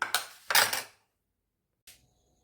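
Two quick scraping knife cuts on a board while a lemon is chopped into small pieces for a mango mojito, then a pause and a single light tap, close and fairly loud, with no talk.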